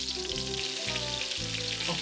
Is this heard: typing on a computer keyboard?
no